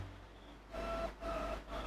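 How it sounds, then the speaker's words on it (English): A strange synthetic effect sampled from a 707 drum machine comes in after a quiet start, pulsing in faint tonal bursts with thin whistling overtones and a low hum beneath. "this weird sound that I think we sampled from the 707"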